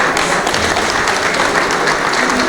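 Wedding guests at an evening reception clap together in a dense, continuous burst of applause, loud and close, with no talk over it.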